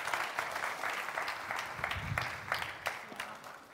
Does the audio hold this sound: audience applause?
yes